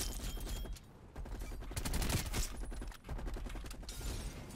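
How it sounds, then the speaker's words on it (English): Bursts of rapid automatic fire from a Groza rifle in Black Ops Cold War, several volleys with short pauses between, loud and dense, with no voices. "this gun's going off right now"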